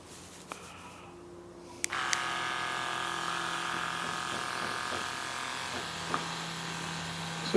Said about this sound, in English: So you can get a pretty fine mist.